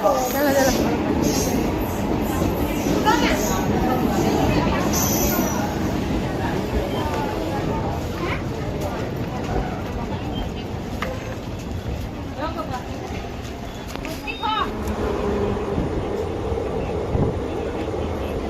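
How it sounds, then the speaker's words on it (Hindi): A Bhubaneswar superfast express train at a railway platform, its steady rumble and wheel noise continuing throughout with brief clanks over a busy station background. "Bhubaneswar superfast express 1 number platform पे"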